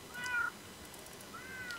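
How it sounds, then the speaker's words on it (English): A cat in Minecraft gives two meows, a clear, fairly close one at the start and a fainter one near the end, with quiet background in between. "Shut up, kitty!"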